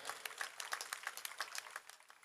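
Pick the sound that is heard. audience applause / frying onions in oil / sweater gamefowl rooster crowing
audience applause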